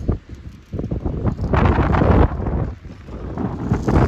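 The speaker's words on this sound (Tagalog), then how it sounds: "Malakas ang ulan, malakas ang hangin." Heavy rain and strong wind roar steadily at a Tibetan bridge in Sellano, Italy, gusting louder in the middle with rumbling buffeting against the microphone.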